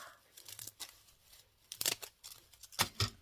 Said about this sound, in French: Pas très facile à couper avec mes ciseaux